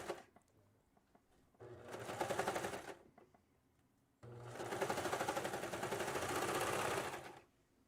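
A serger overlocking fabric for a faux-cowl T-top runs in two close, loud bursts, a short one and then a longer one, with quiet pauses between and no talk over it.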